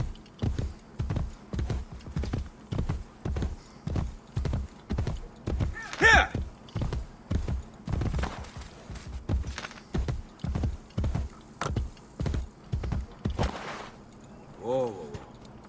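Horse hooves in the video game Assassin's Creed Brotherhood, a steady, even clip-clop at a walking pace with a short whinny midway and another near the end.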